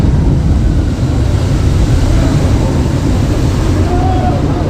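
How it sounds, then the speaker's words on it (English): Heavy roar of rushing water at the Jurassic Park ride waterfall at Islands of Adventure, a loud, constant low rumble with wind buffeting the microphone and faint voices blended underneath. "over here is the waterfall. This is the final of the Jurassic Park ride."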